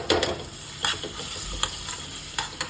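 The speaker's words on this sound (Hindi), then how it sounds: "ये वाला तेल हो चुका है गरम, इसमें डालूंगी मैं 1 चम्मच अदरक लहसुन का पेस्ट।" Steady sizzling of ginger garlic paste in hot oil, up close, with a spoon scraping and stirring the pan every second or so.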